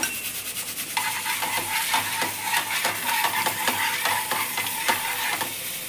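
A spoonful of oil spread across a hot pan for methi thalipeeth, crackling in a steady sizzle while a spoon scrapes and taps the surface in a quick rhythm, close up and alone.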